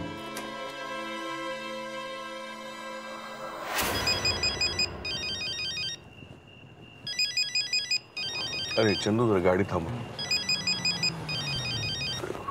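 A phone ringtone chimes in repeated electronic bursts after a sustained tone, with someone briefly speaking in the middle.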